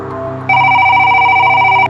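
A telephone bell rings loud and alone in a horror story: a steady electronic ringing tone that sounds continuously for about a second and a half before cutting off abruptly.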